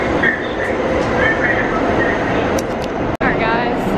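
New York City subway train rumbling loudly and steadily at close range, with a sharp brief dropout near the end and faint high squeals over the continuous roar.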